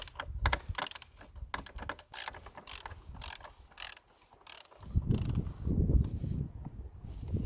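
Ratchet with a 32mm socket on a swivel head loosening the oil filter cap of a 2.0 TDI engine on a Seat Exeo, Audi A4 or VW Golf/Passat: rapid close clicking ratchet bursts, then heavier creaking turns.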